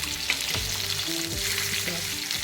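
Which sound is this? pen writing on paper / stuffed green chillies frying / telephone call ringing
stuffed green chillies frying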